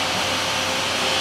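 Niigata SPN-50 CNC horizontal machining center spindle spinning at 3,000 rpm, a steady broadband whir with a high hiss, heard briefly and alone.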